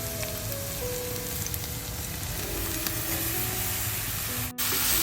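Mushrooms sizzling in a pan of golden fried onions, a loud, dense, continuous hiss and crackle with a brief dip near the end, no talking.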